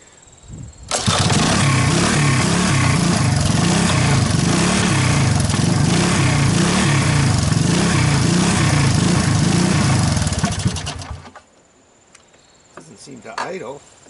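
A Honda ATC200S engine catches after choking and runs loud and rough with an uneven buzzing rattle for about ten seconds, then cuts out abruptly, leaving faint noises afterward.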